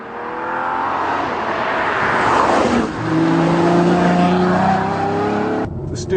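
A Ferrari FF's V12, capable of 8,000 rpm and 651 horsepower, revs loudly inside the cabin, its rising engine note sustained for several seconds with a brief dip midway and a short cut-off near the end.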